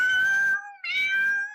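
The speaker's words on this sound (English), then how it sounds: "Hell actually has a choir, you know. It's made up entirely of cats." Cats yowl in a hellish choir, two drawn-out wavering caterwauls back to back with a brief break between, close and fairly loud with no voices.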